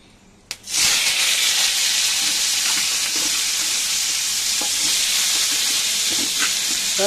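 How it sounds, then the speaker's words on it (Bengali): Vegetables hit hot oil in a wok, setting off a sudden loud hiss that holds as a dense, steady sizzle, with a few faint clinks of stirring and no talk. "কড়াইয়ে তেল দিয়ে দিলাম দেখো তেলটা চলে এসেছে এবার ওর মধ্যে আমি সবজিগুলো সব দিই"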